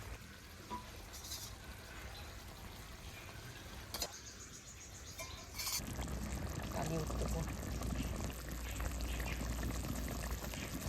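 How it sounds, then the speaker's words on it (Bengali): Gravy made with whisked sour yogurt and oil bubbles and boils in a pan while red bhetki fish is cooked, a steady close simmering hiss that grows louder and denser partway through. "গ্রেভিটা ফুটছে, এবার আমি মাছগুলো দিয়ে দেবো।"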